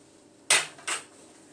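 Two short clattering scrapes of a utensil stirring onions into a tomato mixture in a pan for shakshuka, the first louder and the second a moment later, close by with no talking.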